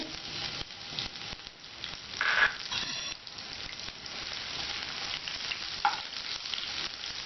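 Sliced onion fries in hot oil in a pan as part of cooking pongal, giving a steady close sizzle with a couple of brief scraping stirs and no talking.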